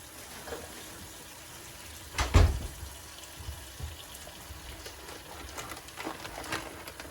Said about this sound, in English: Now you want to cover them with about 2 inches of water.